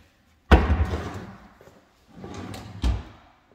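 A kitchen drawer or cabinet in a new home is shut with a sharp thud, then another opens and closes with a sliding rumble and a second firm knock, close by.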